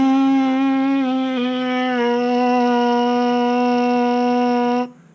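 A trombone player buzzes their lips into a mouthpiece, giving a sustained, buzzy tone of about five seconds that shifts pitch slightly a few times and then stops abruptly.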